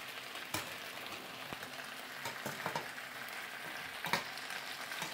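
Meat sautéing in a pan for homemade kebab while fries cook alongside, a soft steady sizzle broken by a few brief clinks and stirring scrapes, quiet and close.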